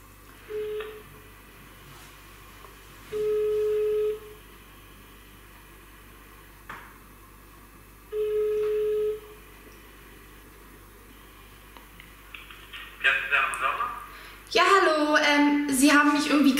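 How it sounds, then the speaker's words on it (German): A phone call is placed, and long, evenly spaced ringback tones sound faintly on the line, with a voice answering near the end. "Ich werde jetzt einfach mal zurückrufen"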